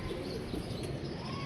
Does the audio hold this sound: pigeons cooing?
yes